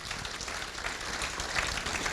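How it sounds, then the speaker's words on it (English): An audience at a conservative forum applauding a speaker, a soft, distant wash of clapping that holds steady throughout. "go ahead and give him a cheer"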